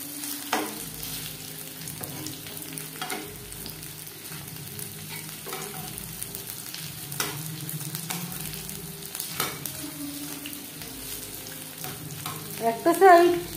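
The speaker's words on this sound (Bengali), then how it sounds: "এভাবে 3-4 বার উল্টে পাল্টে ক্রিস্পি করে ভেজে নেব।" Chicken pieces frying in oil over moderate heat for a crispy chicken fry, a steady close sizzle with occasional clinks and scrapes of turning, ending in a louder burst of crackling.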